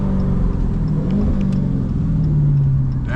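Engine of a Dodge SRT 392 with a straight-pipe Borla ATAK exhaust, droning and shifting pitch as it downshifts, heard steadily and loud from the cabin with no talking.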